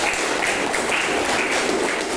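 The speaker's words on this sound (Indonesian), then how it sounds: "beri tepuk tangan untuk kelompok 1" Classmates clap for group 1 after their presentation in a history teacher-training class, a dense, even patter of hands filling the room for a couple of seconds, fairly close and loud, with no voices.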